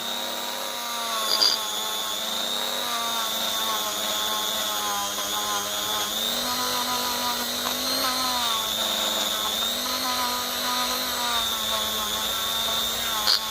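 Dremel rotary tool cleaning a part of a 1950 Lucas D3A4 distributor held in the hand, a steady high-pitched whine running throughout with slight shifts in pitch as it bears on the metal.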